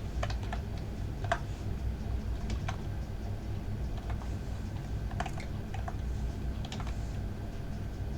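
Scattered soft keystrokes on a computer keyboard while writing smart contract code, faint clicks in loose bursts over a steady low hum, no talking.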